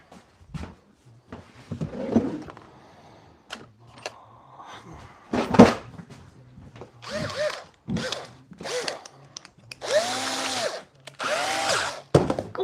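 Several short bursts of a power drill driving screws into wood during a home woodworking build, separated by pauses, knocks and handling clatter, fairly close and with no talk.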